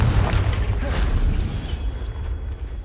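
A Confringo fire spell from Hogwarts Legacy bursts with a loud, deep booming rumble that rolls on for about three seconds, heavy low-end energy filling the clip with dense game effects.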